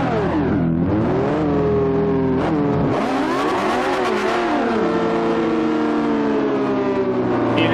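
Aston Martin race cars rev in the racing game Forza Motorsport 4 in split-screen mode, with a loud, close engine roar whose pitch climbs and drops through repeated revs, layered over a second engine drone.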